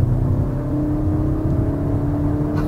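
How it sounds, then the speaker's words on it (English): A 2021 Kia Forte GT sedan's engine revs and hums steadily at close range, a throaty droning whir that holds and slightly rises over a few seconds. "listen to that symphony of that engine once again"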